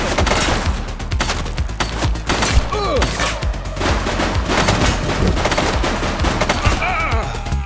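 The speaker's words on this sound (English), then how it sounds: "He's shooting!" A fleeing suspect's gunfire in The Precinct video game: loud, dense volleys of rapid shots and bursts, close and continuous, with brief shouting voices in the mix.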